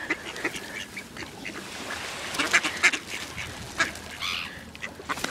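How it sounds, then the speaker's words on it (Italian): Duck quacking in the open among a flock of pigeons being shooed away, several quick calls standing out at moderate distance over a busy, noisy background. "Via, dov'è la papera?"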